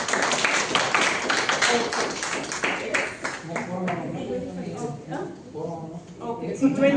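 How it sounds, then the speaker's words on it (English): An audience claps at a club meeting, a thick burst of applause that is loudest at first and then thins out, with talk and voices rising over it toward the end. "Please stand up and a big round of applause."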